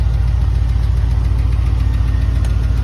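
A 6.0 V8 truck engine idles steadily and loud, its constant rumble carrying a fast mechanical ticking close up, with no voices over it.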